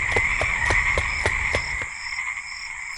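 Golden frogs croak after rain in a steady series of sharp, evenly spaced calls, close and loud over a constant high insect-like drone, with the pulses stopping partway through.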